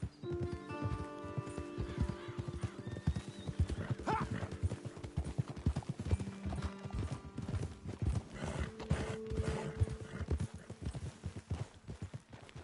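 Steady clip-clop of horse hooves on a hard surface in Red Dead Redemption 2, with a horse whinnying and a layered game soundscape running underneath.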